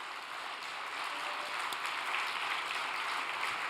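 A congregation at a church gathering gives a steady, even applause of many hands throughout, moderately distant and without speech.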